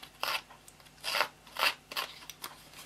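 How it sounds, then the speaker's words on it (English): The edge of a pair of scissors scrapes along a paper edge to roughen it, a series of short, quiet rasping strokes spaced roughly half a second apart. "Using the edge of a pair of scissors works just as well."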